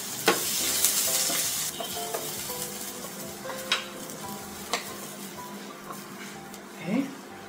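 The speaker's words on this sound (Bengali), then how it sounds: "প্রায় 3টার মতো পেঁয়াজ মাঝারি সাইজে ভাজতে দিয়ে দিলাম।" Onions, about three of medium size, frying in oil in a pan, a steady broadband sizzle with occasional stirring scrapes and clinks, a voice speaking briefly near the end.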